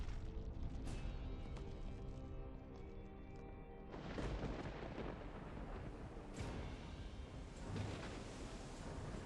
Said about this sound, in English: I like how they use the same storm sound throughout the Risen games